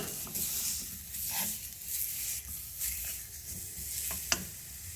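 A pan of softened date paste being heated and stirred gives a soft continuous sizzle with scraping stir strokes and a small clink near the end, fairly quiet throughout.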